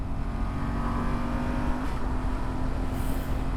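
A car accelerates hard along a country village road, its engine note rising and steady and heard from inside the car, fairly loud for a few seconds with no talking.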